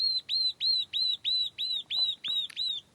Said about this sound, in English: I'm surrounded by birds in this acacia tree